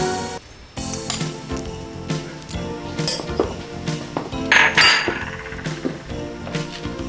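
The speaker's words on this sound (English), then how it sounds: "To make this sauce, I must put a half a cup of butter into the pan." Half a cup of butter goes into a pan, with loud clinks and clangs of metal cookware and utensils, a brief soft sizzle, and a busy kitchen clatter close by.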